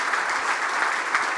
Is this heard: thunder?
no